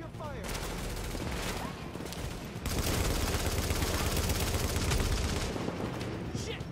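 Sustained gunfire in the video game Tom Clancy's The Division, a dense rattle of automatic and rapid shots filling the scene during a Grand Central Terminal mission, loud and continuous.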